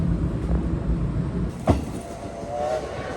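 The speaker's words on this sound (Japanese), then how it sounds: "窓を開けると、レールの継ぎ目の音や踏切の音、風の音などがダイレクトに聞こえてきました。" Through an open window of a restored retro passenger coach on the SL Yamaguchi steam train, wheels rumble over the rails with a sharp clack at a rail joint, while wind rushes past and a faint ringing tone briefly follows.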